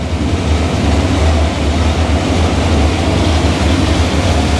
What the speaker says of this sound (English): This motor runs good.